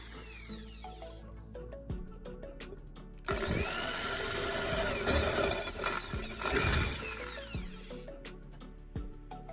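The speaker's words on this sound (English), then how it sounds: "I'm drilling holes in the pot itself to firmly secure it to the brackets" A power drill boring holes in a metal pot, with a whirring motor that rises into a loud grinding bite, separated by sharp clicks and clanks between runs, fairly close.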